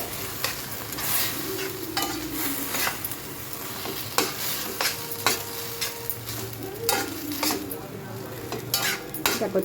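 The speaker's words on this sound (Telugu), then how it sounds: "ఇప్పుడు కాచిన పాలు 1 కప్పు యాడ్ చేస్తున్నాను." Bread halwa is stirred in ghee in a pan as a cup of boiled milk goes in, with soft sizzling and repeated scraping strokes of a spoon against the pan in an uneven rhythm, close and fairly quiet.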